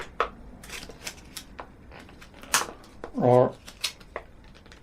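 Hard plastic blister pack holding a cheap LED aluminium flashlight is forced open with crackling snaps and cutting sounds, one louder crunch near the end, under intermittent talk.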